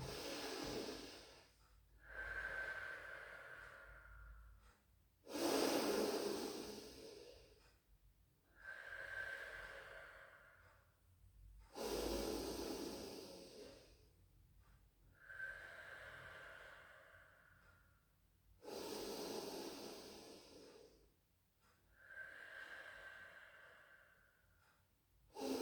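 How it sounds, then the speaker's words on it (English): Slow, deep breathing during a pilates stretch: about four quiet, drawn-out inhale and exhale cycles, each breath rising and fading in a steady rhythm, close and soft with no talking. "Taking some really lovely deep breaths in."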